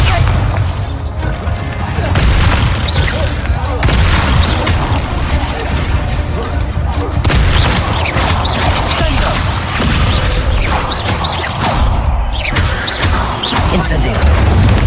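Bombarda blasting spell explosions in the video game Hogwarts Legacy, a loud, dense run of repeated booms and crashing bursts spread through a busy battle soundscape, likely with voices mixed in.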